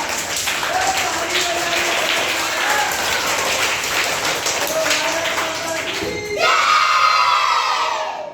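A crowd of schoolchildren in a class claps and cheers loudly and steadily, with shouting voices rising into a burst of excitement near the end.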